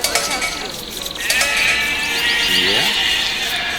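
Sheep bleat in the Age of Empires video game, several wavering calls layered over a busy game soundscape, fairly loud and continuous, with a voice speaking faintly underneath.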